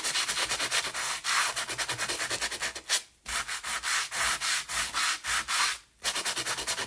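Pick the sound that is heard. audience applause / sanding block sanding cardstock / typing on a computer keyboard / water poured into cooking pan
sanding block sanding cardstock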